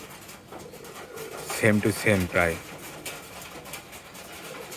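Pigeons in a coop give a burst of soft, throaty cooing notes, fairly close, lasting about a second. A person talks before and after the calls.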